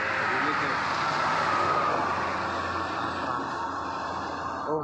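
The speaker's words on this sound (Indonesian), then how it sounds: "Bus pariwisata tiga unit" Three tour buses roll past on a road, a steady broad engine and tyre roar that stays loud and then gradually fades as they move away.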